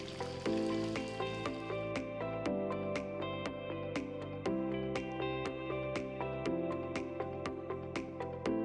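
Quail pieces deep fry in hot oil, producing a close, continuous sizzle with rapid popping crackles and occasional sharper spits.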